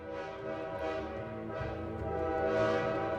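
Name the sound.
train horns wailing through a city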